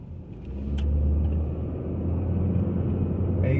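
A car on a residential road, driving over speed bumps, with a steady close low engine and road rumble throughout and a faint knock near the end.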